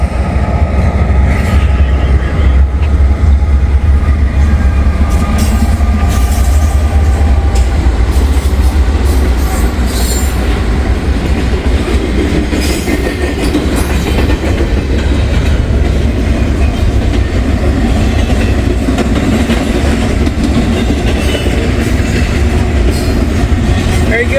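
Freight train cars rolling past on rails, a loud continuous rumble with rhythmic clickety-clack of wheels over joints throughout, heard close from beside the track.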